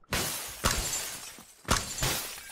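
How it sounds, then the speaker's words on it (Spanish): Window glass is smashed by fist in PUBG gameplay, several loud, close crashing bursts in an uneven rhythm, each trailing into tinkling debris. "Está rompiendo cristales. Los cristales se rompen a puño."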